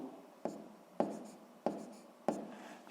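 Chalk or marker strokes on a board as a number is marked during a sixth-grade maths lesson: four sharp taps at even intervals, each trailing into a brief scratchy scrape, close and fairly quiet with no talking.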